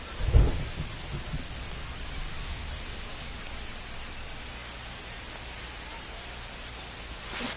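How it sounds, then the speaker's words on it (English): Thunderstorm in MLB The Show baseball game, steady rain hissing throughout with a loud thunder crack at the start and a low rumble trailing off, and no voices. "It feels like we might be headed towards a rain delay if the weather doesn't ease up, Chris."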